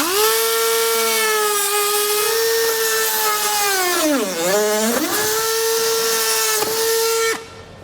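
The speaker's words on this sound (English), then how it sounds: "I'm just going to use a Dremel tool though." A Dremel rotary tool cuts through a thin plastic panel during a trailer hitch installation, giving a loud, steady high whine. Its pitch sags as the bit bites near the middle, recovers, then cuts off sharply near the end.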